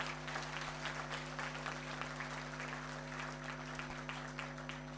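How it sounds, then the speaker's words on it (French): Sustained crowd applause at an event in Cameroon, even and continuous clapping over a steady electrical hum, moderately distant. "Applaudissez encore pour lui."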